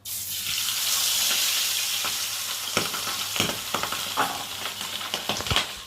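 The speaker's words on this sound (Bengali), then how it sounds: "তেলটা তাওয়াটা ভালোভাবে গরম হয়ে গেছে, আর একে একে আমি এই যে মাছগুলো দিয়ে ভেজে নেব।" Pabda fish sizzling in hot oil on a tawa, a loud continuous fry hiss close by, broken by repeated sharp pops and spatters that grow busier toward the end.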